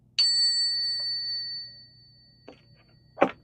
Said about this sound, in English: So I'm gonna ring the bell again.